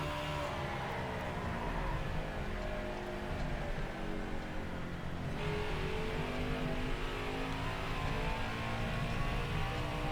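A NASCAR Cup race car engine in NASCAR Heat 5 at New Hampshire, droning steadily at high revs throughout with shifting pitch as the throttle is worked off a corner, loud and continuous.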